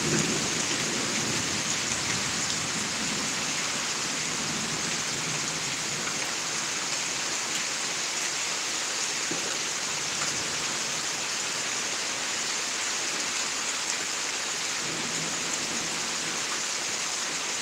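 Steady, dense rain pouring down, a continuous loud hiss with the patter of drops throughout, no voices.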